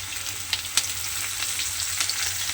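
Pieces of bitter gourd frying in hot oil in a pan, a strong, steady close sizzle with a couple of sharper pops and light spatula scrapes, with no talking.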